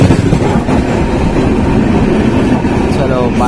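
Onboard the Falaknuma Express as it starts to move, a loud, steady low rumble of wheels and carriage fills the space, with a voice heard over it.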